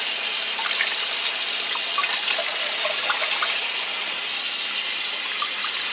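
A kava strainer bag of Fiji kava root is rinsed and worked loosely in a basin of water, giving a steady close splashing and trickling with small sloshes and no talk.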